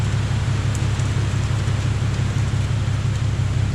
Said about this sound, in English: There, the rain is finally slacking up.